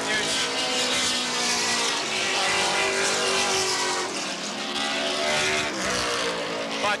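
Sports sedan race cars at Wanneroo Park in 1981, engines roaring loudly and continuously as they pass close by, with a commentator talking over the noise throughout.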